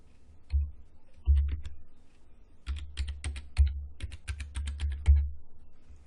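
Keys clatter on a computer keyboard while logging in to an ESXi user account, bursts of close, crisp taps with short pauses between groups, no voices.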